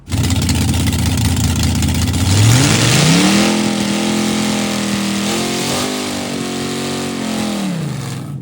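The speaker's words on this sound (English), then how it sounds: "Quite a burnout." A Chevy Spark with its air filter removed revs hard during a burnout, its loud engine note climbing in pitch, then holding and wavering as it sustains a high, strained drone.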